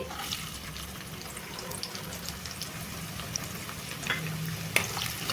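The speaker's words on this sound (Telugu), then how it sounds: "జీలకర్ర కొద్దిగా ఫ్రై అయ్యాక దీంట్లో ఉల్లిపాయ ముక్కలు వేస్తున్నానండి" Chopped onions frying in hot oil with cumin seeds for a raw banana and tomato curry, giving a soft, continuous sizzle with occasional light stirring scrapes and no voices.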